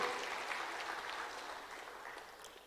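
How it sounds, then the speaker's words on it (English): A church congregation applauds in a dense wash of clapping that slowly fades over a few seconds, heard from a distance and fairly faint. "Can't you give the Lord Jesus Christ a clap?"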